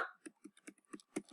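Someone types text into an Excel spreadsheet on a computer keyboard: a short run of about six distinct key clicks at a steady, moderately quick pace, close and fairly quiet, with no talking.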